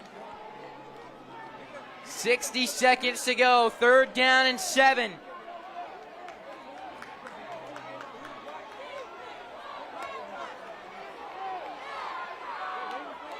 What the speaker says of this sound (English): the Ed White home crowd getting on their feet and starting to make some noise